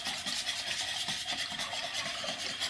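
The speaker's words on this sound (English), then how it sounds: "I'm going to break up the coconut oil and the little bits of tallow that are in here" Coconut oil and small bits of tallow are broken up and mixed together for a homemade body scrub, giving a soft, continuous rubbing and stirring texture that stays close and steady throughout.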